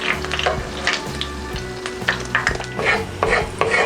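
Crabs (kasag) frying until crispy in a pan of oil, a loud steady sizzle broken by repeated scraping stirs of a utensil against the pan, close up and with no talking.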